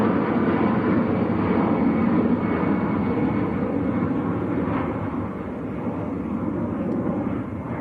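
An EasyJet airliner departing Manchester Airport for Belfast, a sustained rumbling engine roar at moderate distance that eases slightly toward the end, with no voices.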